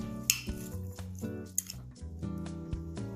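Pico de gallo ingredients of jalapeño, cilantro, lime juice and salt are mixed in a bowl, giving close, wet clinks and squishy scrapes in a quick, uneven run, with no voices.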